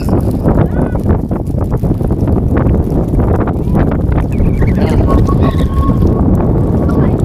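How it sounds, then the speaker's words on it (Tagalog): Strong wind buffets the microphone on a hilltop at Tinawagan Hills, a loud continuous roaring rumble throughout with a voice speaking beneath it. "Ayan sobrang hangin."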